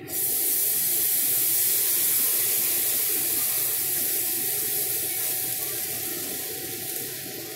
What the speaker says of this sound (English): Get your cup of water, pour in slowly.